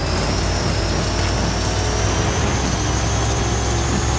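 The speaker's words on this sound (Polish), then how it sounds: "No, słyszę spalinówkę z tyłu" A combustion-engine car in the racing video game Forza Horizon 5 roars steadily from behind, a loud, continuous engine drone that fills the scene without any speech.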